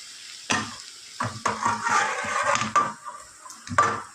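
Potato pieces are stirred and scraped in a hot pan alongside lentils, with a steady frying sizzle under several distinct clattering strokes of a spoon against the metal.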